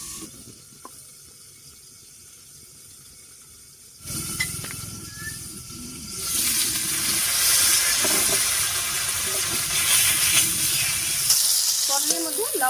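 Whole pointed gourds (potol), rubbed with salt and turmeric, cook covered in a pan. A soft hiss starts, then swells into a steady, fuller sizzle with faint clatter near the end.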